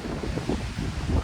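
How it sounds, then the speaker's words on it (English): Steady wind buffets a microphone outdoors in the backyard of a Northern California house, a loud, rumbling low roar that gusts slightly without pause and with no other sound over it. "Woo, it's windy."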